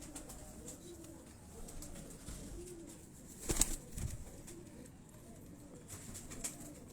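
Teddy breed pigeons coo softly in a loft, low, murmuring rolls recurring at a distance beneath faint background noise, with a brief louder rustle or flutter near the middle.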